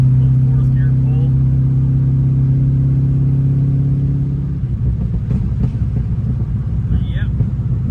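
Chevrolet S10 pickup with an LSXRT engine pulling hard in fourth gear, a loud steady droning engine note under acceleration that breaks into rougher, gravelly rumbling partway through.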